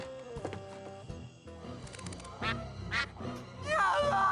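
Repeated cartoonish duck quacks in the 2000 PC adventure game Escape From Monkey Island, several nasal squawks in quick bursts, close and loud over game music and effects, with a louder burst of quacking at the end.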